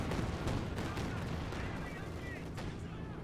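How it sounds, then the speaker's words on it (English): Rapid gunfire from a strafing run in Company of Heroes 2, a dense rattle of bursts over a constant battle din, with someone talking over it. "Strafing run coming in, doing more damage"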